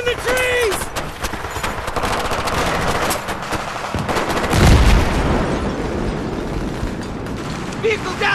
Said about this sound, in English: Taking fire from the left!